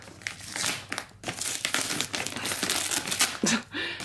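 Wrapping stuck down with double-sided tape being peeled and pulled apart, giving close crinkling, crackling and tearing bursts in uneven rhythm, with a brief low voice near the end.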